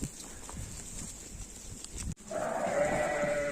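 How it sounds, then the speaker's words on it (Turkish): Sheep in a barn, with a steady background hum and shuffling, then a single drawn-out, wavering bleat rising clearly over the noise in the second half. "Koyunlarımız artık ahırda."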